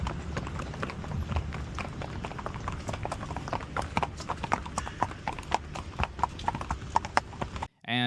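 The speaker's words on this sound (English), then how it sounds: "Along Cabo, there's a lot of horses everywhere." Horses clip-clop on the beach at Cabo San Lucas, a steady stream of hoof beats that is close and continuous, with faint background noise.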